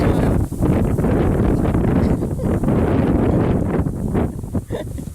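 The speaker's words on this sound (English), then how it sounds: "I'm in Kansas. It's a little windy." Strong wind blowing across Kansas wheat fields buffets a microphone outdoors, a heavy continuous roar with gusts that briefly dip and surge, rustling faintly underneath.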